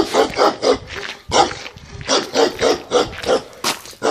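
A dog barks repeatedly at close range in a rapid, uneven series of loud woofs, with short pauses between bursts.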